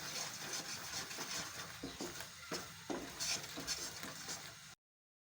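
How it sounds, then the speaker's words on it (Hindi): Chikki mixture is stirred continuously with a spoon in a pan, giving faint, steady scraping with soft repeated strokes, until the sound cuts off abruptly. "आपने मुसलसल इसमें चम्मच चलाना है"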